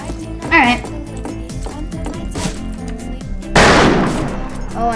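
Gunfire in the Western shooter game Fistful of Frags: scattered shots crack through the round, with a loud, dense burst near the end. It plays without speech.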